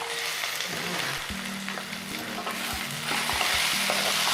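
Onions fry in a covered pan for jeera aloo, a steady sizzle with soft stirring scrapes and a few dull knocks of the spoon against the pan, close and continuous with no talk.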